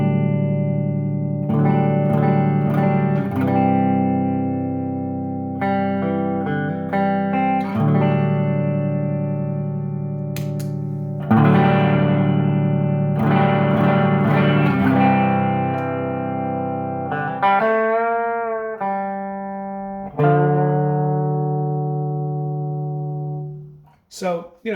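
Electric guitar played through a Princeton amp with a light room delay, sustained chords and single notes ringing out with soft echoing tails, phrases separated by short pauses, loud and close with no talking.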